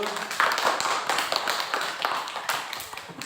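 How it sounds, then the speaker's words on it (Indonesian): A classroom of students applauds, their quick, uneven claps running together into a steady patter that carries on for several seconds at moderate volume. "Kasih tepuk tangan dulu"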